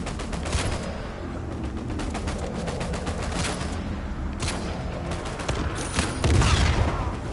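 Rifle fire from an M14 in the video game Uncharted, a dense run of sharp shots crackling through a busy battle mix, loud and continuous with a heavier burst near the end.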